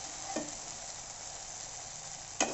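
Tomatoes and spices sauté in a pan with a steady, soft sizzle, and two brief stirring scrapes break through it.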